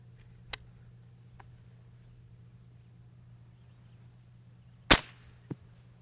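.22LR rifle fired at a flying washer: a single sharp, loud crack mid-clip, with a faint click before it and a smaller knock just after, over a low steady hum.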